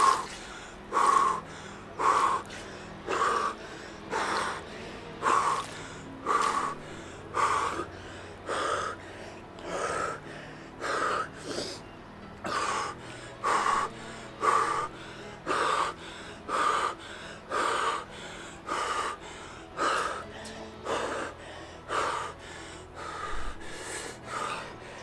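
A person immersed in 3°C ice water breathes hard and gasps in a steady, deep rhythm, about one loud, close breath cycle every second or so, repeating for the whole stretch with no talking.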